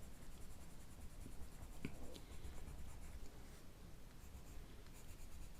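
Coloured pencil scratching steadily across paper while colouring a stamped image, a continuous soft close-up scribbling texture with a few slightly sharper strokes, no voices.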